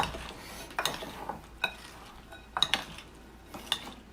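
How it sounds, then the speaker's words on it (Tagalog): Metal utensils stirring Filipino dinakdakan (sarabasab) in a dish, with sparse clinks and scrapes spaced irregularly, close and fairly quiet, no voices. "Tapos, haluin lang po ng maigi."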